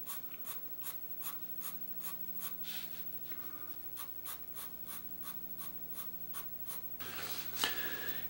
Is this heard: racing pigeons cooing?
no